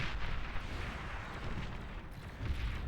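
Artillery in Beyond All Reason pounds away in a steady stream of overlapping deep booms and blasts, forming a continuous rumbling barrage with no clear gaps and no voices.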